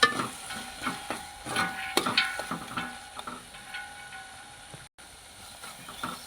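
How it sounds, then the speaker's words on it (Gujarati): Gujarati eggplant oro, a baingan bharta, is stirred in a pan, a spoon scraping and tapping in irregular strokes over a low sizzle, fading toward the end. "હલાવી નાખશું"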